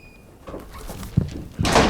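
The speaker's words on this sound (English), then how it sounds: "Don't bang the door." A door thuds shut with a short bang indoors, followed by a louder burst of noise, faint and brief against a quiet room.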